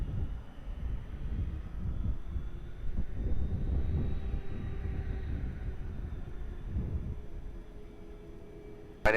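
Airplane at Lisbon Airport, a broad engine rumble rising and falling over several seconds at a distance, with wind noise and a brief sharp sound at the end.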